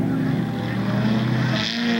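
An off-road race vehicle engine in a Class 6 SODA race at Bark River, Michigan, 1992, drones steadily around the track, a continuous loud motor hum with a slight rise in pitch near the end.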